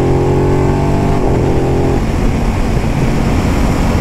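An Aprilia RS660 sport motorcycle engine with a shifter revs hard and climbs in pitch, loud and close, with a roughening change midway as it accelerates.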